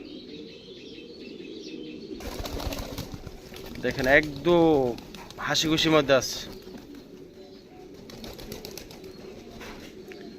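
Pet pigeons let out into the morning sun coo and rustle their wings nearby in short bursts, while someone talks over them.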